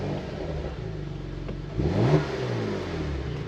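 A Porsche Macan GTS with a 3-litre twin-turbo V6 fires up close by. A steady rumbling idle swells into a brief loud rev before settling back to a smooth, even idle.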